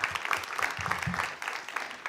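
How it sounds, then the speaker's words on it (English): A summit audience gives a steady round of applause, with continuous dense clapping from many hands that stays even and moderately loud throughout. "A huge round of applause."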